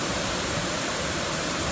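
Rushing water of Evolution Creek on the John Muir Trail, a loud, steady broadband roar of flowing mountain stream water, close and continuous with no voices.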